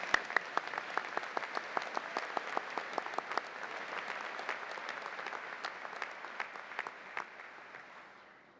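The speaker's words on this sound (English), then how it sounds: "A round of applause for them too, please." Steady applause from a convocation audience for graduates not in attendance, continuous clapping from a large hall that fades gently at the end.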